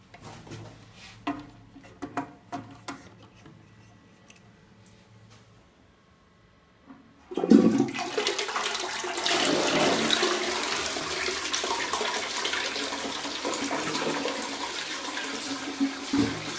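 A cistern toilet in a public convenience in Bournemouth flushes with a sudden loud rush of water that surges and then pours steadily, after a few quiet clunks and taps of the mechanism.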